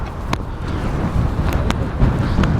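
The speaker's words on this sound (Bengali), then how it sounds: "সমুদ্রের প্রচুর বাতাস।" Strong sea wind buffets the microphone on the coast of Qatar, a loud, continuous low rumble of gusts with a few sharp clicks and knocks scattered through it.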